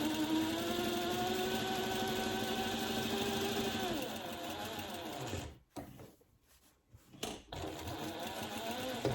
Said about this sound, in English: Just stitch all around the edge.